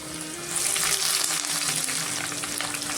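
Onions fry in hot oil with cumin and garlic and are stirred, giving a steady close sizzle with scraping stir strokes and a swell in hiss as the onions go in.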